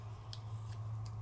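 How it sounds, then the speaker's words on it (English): Scissors snip through scored paper cut by a lettering die, three quiet, crisp cuts spaced evenly over a low steady hum. "I just cut right across there and cut those little wings off that let you do the three-dimensional."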